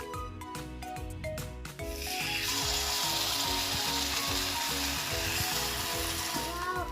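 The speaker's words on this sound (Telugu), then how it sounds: "గుంత పెనం బాగా హీట్ ఎక్కింది ఇప్పుడు మనం మిక్స్ చేసుకున్న పిండిని వేసేద్దాం" Batter poured into a hot, oiled gunta (paniyaram) pan for punugulu, starting with a few clinks, then bursting into a loud, steady close sizzle that fills the rest of the moment.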